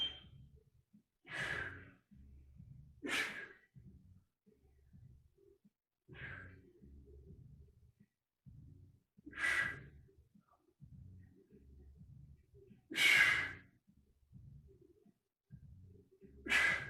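Heavy, forceful exhalations during a dumbbell squat press, six sharp breaths spaced a few seconds apart, close and loud against quiet low background movement.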